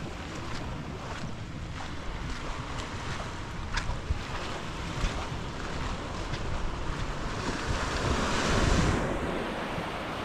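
Surf rolling onto Klong Khong Beach on Koh Lanta, a steady broadband wash of breaking waves with wind buffeting the microphone, swelling slightly louder near the end, no voices.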